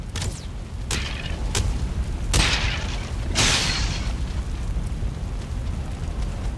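Scattered gunshots aimed at the player in Valheim, a handful of sharp bursts and booms over steady background game noise, with no talk.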